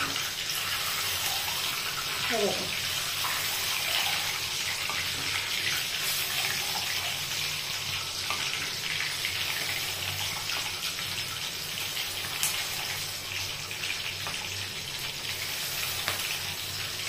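Green chillies fry in hot oil held in a sieve, giving a steady, even, close-up sizzle that runs unbroken throughout.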